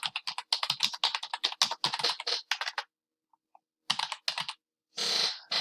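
Fingers tap rapidly on a computer keyboard in quick, close bursts of clicks, then a pause of about a second before a few more keystrokes and a final short run.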